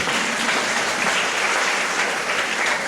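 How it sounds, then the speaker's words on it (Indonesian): Clapping from a crowd at a Christian revival gathering held at a Manado high school, dense and continuous, filling the space evenly at a steady level from start to finish. "Tepuk tangan dulu buat orang Manado."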